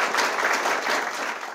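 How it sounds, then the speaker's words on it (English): Audience applause at the close of a Global Ethics Forum conversation with Dambisa Moyo, a steady, dense patter of many hands clapping that fills the short moment without pause. "let's have an applause."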